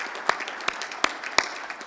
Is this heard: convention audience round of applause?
yes